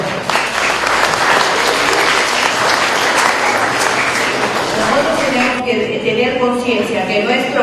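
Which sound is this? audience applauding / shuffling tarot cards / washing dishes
audience applauding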